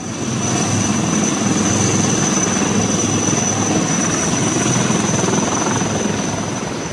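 Army rescue helicopters flying over a flood and landslide area, their rotor and engine noise a loud, steady whirring drone with a constant whine on top, sustained throughout with no voices.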